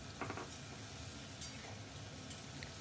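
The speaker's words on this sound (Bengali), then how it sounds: "দিয়েও একটু ভালো করে নাড়াচাড়া করে নেব তেলের মধ্যে।" Ridge gourd and potatoes stirred in hot oil for a vegetarian poppy-seed dish, a quiet sizzle with scraping utensil strokes against the pan.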